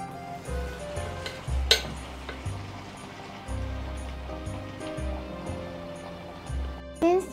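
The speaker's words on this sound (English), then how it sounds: "I can fry the fritters now" Hot oil sizzles and crackles steadily as anchovy fritter batter fries in a small frying pan, with occasional clinks of a utensil against the pan and a brief louder clatter near the end.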